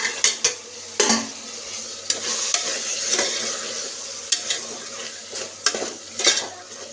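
Peas frying in a pan while being stirred, with scraping spoon strokes and clinks of utensil on metal over a steady sizzle, close and alone with no talk.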